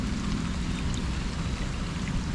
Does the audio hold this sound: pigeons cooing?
no